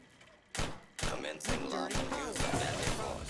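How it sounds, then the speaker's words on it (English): Several gunshots crack out in the Fallout video game, a pair of sharp bursts followed by a denser volley of shots, with a voice talking over the gunfire. "I shot 6 bullets in his face."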